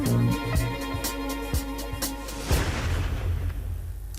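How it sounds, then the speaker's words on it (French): Gunshot in a trailer for the TV series Big Little Lies: a couple of sharp booming bangs land over a funky music bed, with a louder, reverberant shot midway before the music continues. "Voilà le fameux coup de feu"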